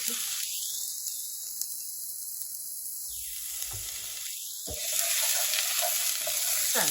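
Dry onions are sautéed in a pan for a boiled chicken dish: a steady sizzle with stirring scrapes, broken by the onions dropping in and a louder burst of frying near the end, with no voices.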